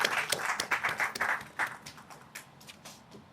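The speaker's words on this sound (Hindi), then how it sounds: "तालियों से हम स्वागत और अभिनंदन करेंगे।" An audience at a Hindi literary award ceremony claps in welcome for an honoured guest, a brief burst of applause that fades out after a few seconds.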